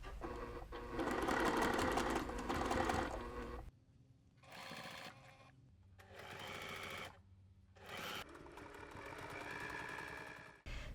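A sewing machine stitches Ric Rac trim onto a small cross stitch pillow, running in several close bursts of rapid needle clatter separated by short pauses, the first run longest and loudest.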